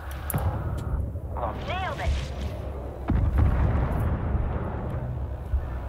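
Spaceship weapons in the space strategy game Homeworld 3 fire in rumbling booms and blasts under steady game noise, with someone talking over the action.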